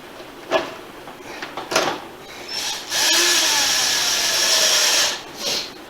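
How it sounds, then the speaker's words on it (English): Bolts are snugged down with a power tool during a Dakota Digital gauge install on a 2019 Harley-Davidson Road Glide Special, with a few sharp clicks of handling parts, then a close, loud whirring run of about two seconds and a short final burst. "We're going to get our bolts. And just snug them on."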